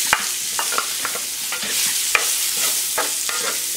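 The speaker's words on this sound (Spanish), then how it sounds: "Ahora le voy a estar agregando las salchichas" Sausages frying in rendered bacon fat in a pan for frijoles charros, a loud steady sizzle close up with repeated scraping stirs and clinks of a utensil, no voices.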